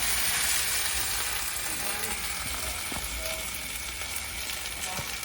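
Curry paste sizzling and frying in a hot pan for a spicy field-rat stir-fry, a steady loud hiss throughout with occasional faint clinks of stirring, close up and continuous.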